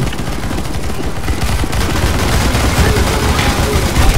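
Dense, loud automatic gunfire fills the stretch without a break as players shoot at NPCs in a Counter-Strike: Global Offensive Zombie Escape round, with sustained rapid bursts close up.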